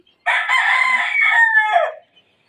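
An Esculin gamefowl rooster, two years old, gives one loud, close crow lasting nearly two seconds, with a strained tail that drops off into silence.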